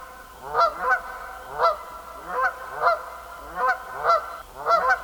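Ducks on a lake beside a beaver lodge give loud, honking calls in regular bursts, roughly eight calls over a few seconds, close and clear with no talking.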